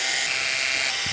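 Screws being driven back into the casing of a MIG 180DVT welder by a power driver, a steady close whirring hum running throughout with no talk.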